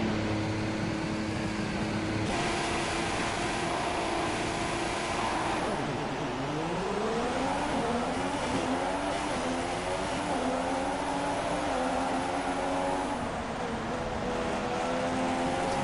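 Formula 1 race cars in a PS4 racing game howl off the start line, engines revving together and rising in pitch in steady sweeps as they accelerate, loud and continuous.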